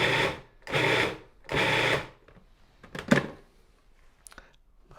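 A food processor pulses muffuletta filling of olives and herbs, three firm whirring bursts of about half a second each, then a couple of shorter clattering blips, loud and close with quiet gaps between.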